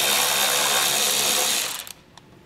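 Power tool spinning out 8mm screws behind a vehicle's taillights, a loud steady whir lasting about a second and a half before winding down, followed by a couple of faint clicks.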